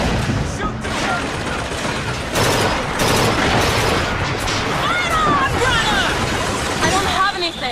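Gunfire in the video game BioShock Infinite: dense, continuous bursts of shots and booms, loud and close, mixed with other game noise and voices.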